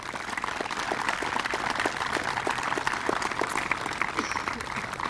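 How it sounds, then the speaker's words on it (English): An audience at the Moving Wall closing ceremony in Eldridge Park, Elmira, New York, applauds steadily, a dense wash of many hands clapping at moderate distance. "A round of applause for you."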